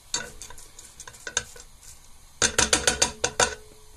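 Onions cook in a casserole pan for lasagne bolognese, with a soft sizzle under clusters of sharp stirring clicks and utensil taps that grow louder and more rhythmic in the second half.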